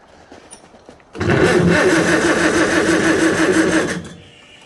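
A broken tractor engine cranks over in the snow without catching, one loud sustained churning burst of about three seconds that then stops abruptly.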